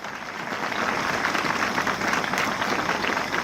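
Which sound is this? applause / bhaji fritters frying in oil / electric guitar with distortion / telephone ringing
applause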